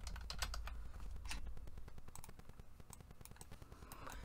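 Rapid typing on a computer keyboard, a steady stream of close, crisp key clicks with brief pauses, heard alone without talk.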